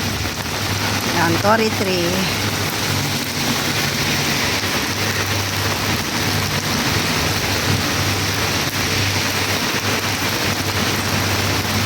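Steady rain pours down in a continuous hiss, with someone speaking briefly near the start over the downpour.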